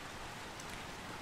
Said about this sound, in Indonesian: Hujan guys ternyata.